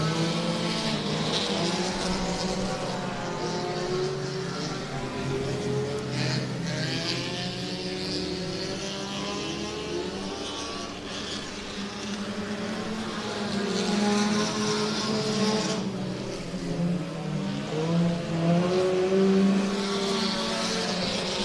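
Race cars roar around the Hibbing Speedway track during a weekly heat, engines droning loud and continuous with surges as the field passes, no voices over the din.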